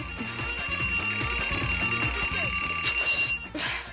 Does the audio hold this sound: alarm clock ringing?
yes